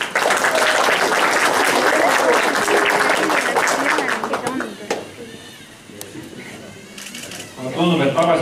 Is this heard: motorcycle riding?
no